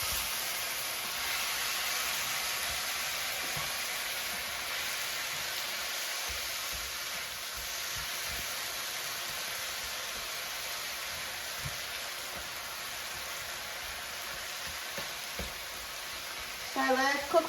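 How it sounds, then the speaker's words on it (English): Black pepper Angus steak cooks in a pan with sauce, giving a steady close sizzle and hiss under occasional stirring, with a voice talking over it. "And mix everything together and cook for 1 minute."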